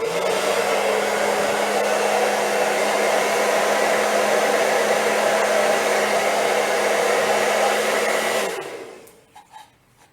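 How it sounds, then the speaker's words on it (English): A hair dryer on its cool setting blows steadily with a loud whooshing drone and low hum, then shuts off and winds down, leaving a few faint clicks. "I have my blow dryer set on the cool setting"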